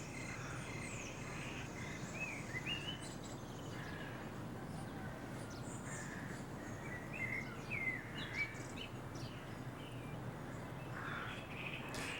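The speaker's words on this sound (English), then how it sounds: "Enjoyed the sounds of the birds." Crows caw and other birds call at a distance over a steady wash of insect chirping in a tropical outdoor setting, all faint and continuous.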